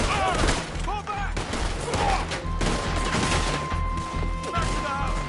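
Rapid gunfire crackles through a chaotic shootout in the video game Red Dead Redemption 2, near and loud bursts overlapping with shouting voices and background game sounds throughout.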